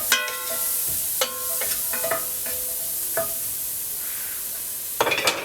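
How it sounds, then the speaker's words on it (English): A spoon stirring ricotta filling seasoned with fresh ground black pepper for stuffed pasta shells, producing several close scraping and clinking strokes against the bowl with a soft underlying sizzle, no talking. "And then just stir that up."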